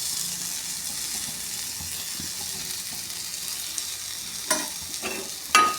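Masala dosa cooking in ghee on a hot pan gives a steady, soft broadband sizzle throughout, with a few brief sharper clinks or scrapes near the end and no talking.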